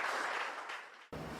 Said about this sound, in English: let's give hands of applause for all 4 of them again